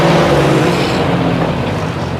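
A 1964 Ford 4000 tractor drives forward in third gear, its engine giving a steady, loud, close rumble that holds evenly throughout with no talk over it.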